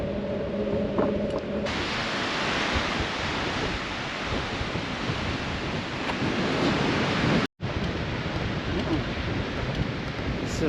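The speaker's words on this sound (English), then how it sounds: "Severe headwind at the beach." Strong headwind buffeting a microphone on a beach in Japan, with surf behind it: a loud, continuous broadband roar of wind and waves that briefly cuts out near the end.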